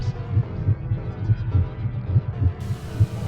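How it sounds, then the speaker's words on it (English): Pounding heartbeat sound effect in a spooky audio horror story, a steady, fast double-thump rhythm repeating low and heavy throughout, with a faint hum underneath and no talking. "my heart pounding out of my chest"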